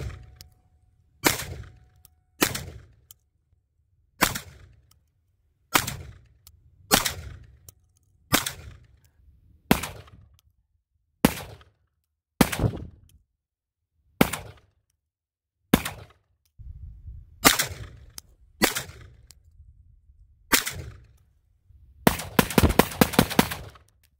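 A Beretta 1301 Tactical semi-automatic shotgun fires about sixteen loud, sharp blasts at spaced intervals, ending in a rapid burst of quick successive shots, each report close and cracking with no talk.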